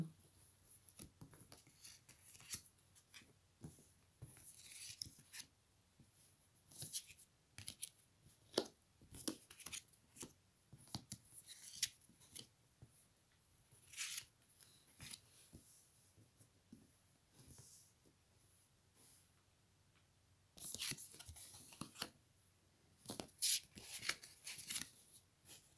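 Tarot cards are shuffled and handled in quick, irregular bursts of soft riffling and rubbing, close and fairly quiet, with brief pauses between flurries and no voices.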